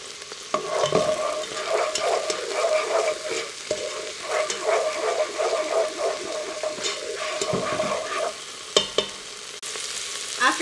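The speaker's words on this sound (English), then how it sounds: "To my olive oil, I'm going to drop in 2 tablespoons of minced garlic. And you're just gonna saute it for about a minute." Two tablespoons of minced garlic sauté in olive oil: a soft steady sizzle runs under repeated scraping and stirring strokes from a utensil, close and moderately quiet, with no talking.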